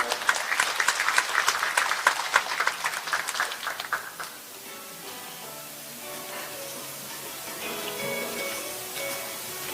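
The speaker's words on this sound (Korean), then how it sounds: "큰 박수 부탁드리겠습니다" Audience applause at a civic briefing in Taebaek's culture and arts hall, dense clapping for the first four seconds, then fading to a thin scatter of claps over room noise.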